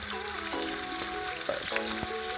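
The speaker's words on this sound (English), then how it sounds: "I'm going to add the chicken in here, each piece, and cook it for 4 minutes on each side" Chicken pieces sizzle steadily in a hot pan, a close continuous crackle with a few small clinks of handling on top.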